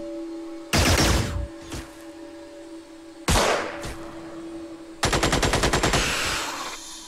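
Three loud, close bursts of automatic gunfire from the turn-based strategy game Xenonauts, each a rapid string of shots, with quiet gaps between them and a steady background hum throughout.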